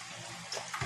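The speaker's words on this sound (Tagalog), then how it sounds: "Lagyan konti ng suka." Vinegar poured into a pot of humba, a sweet Filipino pork stew, giving a brief close liquid trickle and splash that swells toward the end, with no talk.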